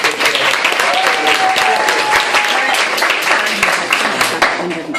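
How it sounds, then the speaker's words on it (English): Steady, dense applause from an audience fills the whole stretch, loud and continuous with a brief whistle riding over it. "Give Jens a round of applause for everything."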